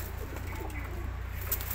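Pigeons coo softly and low in a short burst, faint and close against a steady background hum.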